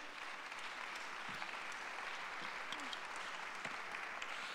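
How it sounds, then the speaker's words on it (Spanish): Audience clapping for guests being welcomed onto a stage at a Mexico City event, a steady, fairly soft wash of many hands with a few sharper individual claps standing out and no talk. "Por favor, un aplauso."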